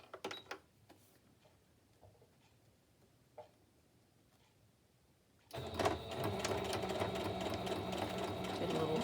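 Sewing machine back-stitching through journal pages: scattered faint clicks and handling at first, then the machine starts up loud and runs steadily to the end.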